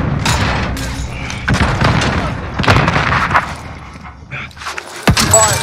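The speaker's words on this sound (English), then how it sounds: "That's an explosion." Explosions and gunfire in a multiplayer shooter video game, with repeated heavy booms and thuds layered over continuous battle noise, loud and close, with players talking over the action.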